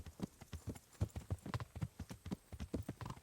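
Horse hooves clip-clop in a brisk, steady rhythm in the Kingdom Come: Deliverance video game, a continuous run of close, quiet thuds with no other sounds.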